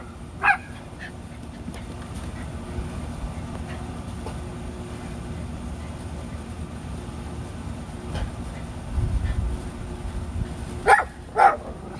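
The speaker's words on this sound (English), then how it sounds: "fence fight and bark" Rat terriers bark a few times at a fence at a distance, with sharp isolated barks at the start and a closer pair near the end over a steady low rumble.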